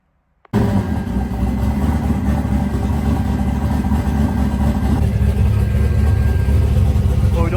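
A drag car with a new transmission and converter fires up and settles into a loud, rough, rumbling idle with steady low-end lope, close by, after a brief moment of silence; voices murmur faintly underneath.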